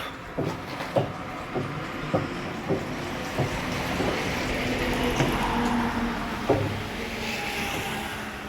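Potassium hydroxide solution (nine kilograms dissolved in twenty litres of water) poured into phosphoric acid to make 0-52-34 fertilizer: a steady, close liquid rush with splashing and scattered knocks and clunks throughout.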